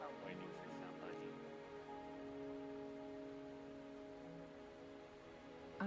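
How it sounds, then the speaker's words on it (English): Rain in the video game Wuthering Waves falls as a soft, steady patter with a faint ambient hum beneath it, quiet and continuous throughout, with a few murmured voices at the start. "Are you trapped here by the rain?"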